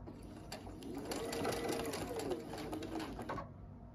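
A sewing machine stitches back and forth across fabric, a steady fast mechanical whir and rattle running for a few seconds before stopping abruptly, close and clear.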